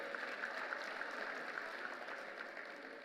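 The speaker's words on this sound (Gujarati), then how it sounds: "જોરદાર તાળીઓ" An audience at a jewellery company's listing event applauds for Kailashbhai, giving a faint, continuous spread of clapping that fades slightly toward the end.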